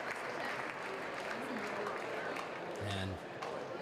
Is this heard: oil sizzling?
no